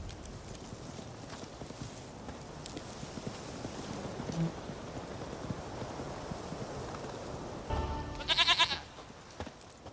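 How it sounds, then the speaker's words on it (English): A goat in The Witcher 3: Wild Hunt clip-clopping softly with hooves on the ground under low ambient noise, then a short burst of sharp bleats near the end. "Here, goat. Here, princess. Hoofed and horned."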